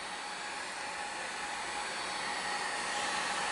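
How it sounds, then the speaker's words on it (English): A 1500-watt heat gun blows hot air onto a motorcycle cylinder head, a steady even whoosh of moderate level that holds unchanged throughout, with no talking. "This is about a 1500 watt heat gun that a friend of mine used for painting"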